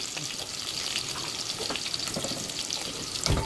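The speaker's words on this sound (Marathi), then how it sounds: "कांदा छान असा गुलाबी रंगावरती आपण भाजून घ्यायचा आहे. तेलात परतून घ्यायचं आहे" Chopped onion fries in oil in a pan, a dense, steady, close sizzling hiss with faint stirring scrapes and no talking.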